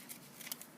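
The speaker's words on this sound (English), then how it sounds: "cut on the line. Don't cut the fold" Scissors snip through folded paper while a paper heart is cut out for a Click Clack Moo duck art craft, giving a few faint, quick crisp cuts close by in a quiet room.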